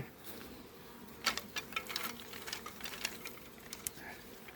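Honeybees buzz around beehive frames at the end of the season, with a faint, steady hum broken by close clicks and taps as the frames are handled.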